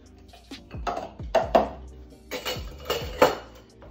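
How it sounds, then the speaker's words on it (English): Sliced kumquats muddled in a glass with simple syrup and Angostura bitters for a tequila cocktail: a close series of irregular dull thumps and light clinks, with no voices. "I have some kumquats here that I sliced up. Go ahead and muddle those."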